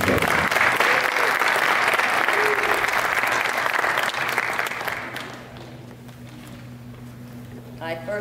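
Applause from an audience at a high school athletic hall of fame ceremony, loud and dense for about five seconds, then fading to a low murmur of the room.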